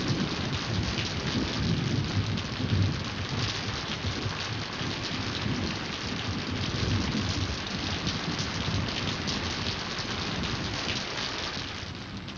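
Steady rain during a thunderstorm, with a dense wash of falling drops and low rumbling thunder swelling beneath, continuous and fairly loud throughout, with no voices.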